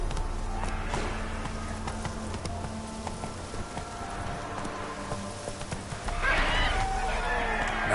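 Roach the horse from The Witcher 3 video game gallops with steady hoofbeats and lets out a loud neigh near the end, under faint game ambience.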